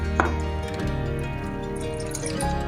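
Water is poured into a bowl of batter for eggplant and potato pakora, a short close splash and drip followed by a steady trickle, with no talk over it.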